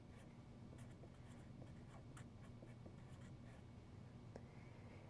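Points are written on a board, producing faint, scratchy strokes and soft taps in short bursts over a quiet room hiss.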